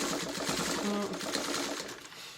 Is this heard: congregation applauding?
no